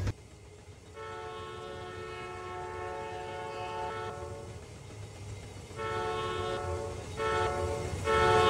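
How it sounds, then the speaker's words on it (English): A freight train rolls in the Run8 Train Simulator video game, with a wheel carrying a flat spot, under a steady rumble broken by long sustained horn blasts that stop and restart several times. "This wheel right here, I think, has a flat spot. Do you hear that?"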